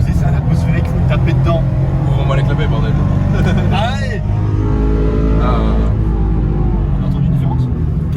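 Toyota GT86 naturally aspirated engine revving hard with exhaust valves open, a loud, continuous throaty drone that rises and falls, heard from inside the car with someone talking over it.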